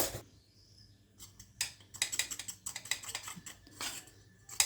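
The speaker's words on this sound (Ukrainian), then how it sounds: "Тепер починаємо вимішувати все виделкою." A fork clicks and scrapes against a bowl in quick, uneven taps while mixing pizza dough with egg, faint and close, with soft wet stirring between strikes.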